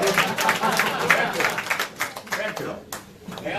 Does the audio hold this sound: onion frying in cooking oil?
no